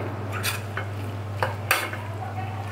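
A spoon stirs a sesame and dried fish fritter mixture in a bowl, with a few distinct scraping strokes over a low, steady hum and no talking.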